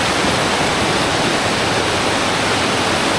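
Steady rushing water flows loudly and continuously, a broad hiss like a small waterfall pouring close by.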